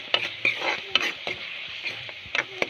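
Fish curry masala is stirred in a frying pan, with a spoon scraping and tapping the pan. The masala sizzles softly and steadily underneath, close by, with no talking.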